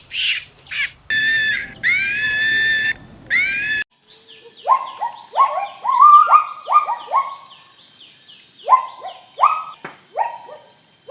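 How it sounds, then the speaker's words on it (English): A monkey gives a few loud, harsh calls, then a rapid series of short, sharp chattering barks, close and clear with no talking. "Monkey."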